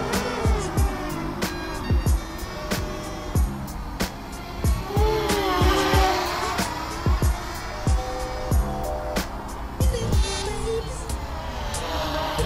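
Walkera F210 3D racing drone in flight, heard as a steady high-pitched motor whine that rises and falls in pitch with throttle changes, accompanied by sharp repeated ticks and clicks throughout.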